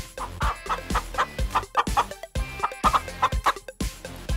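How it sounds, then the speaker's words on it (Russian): A hen clucks rapidly and steadily, a close run of short throaty clucks with barely a pause. "Курица – это мама."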